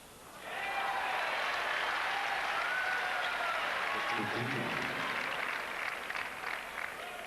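Loud, sustained crowd roar with clapping fills a packed night-time stadium in New York during a Sampras–Agassi tennis match, the noise holding steady throughout and easing only slightly near the end.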